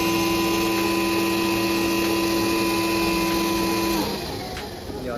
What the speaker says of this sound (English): This knife oscillates at 3000 oscillations per minute.